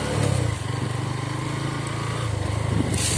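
A city-class motorcycle rides along a rough riverbank levee track, its engine giving a steady, close, buzzing drone with slight throttle swells throughout.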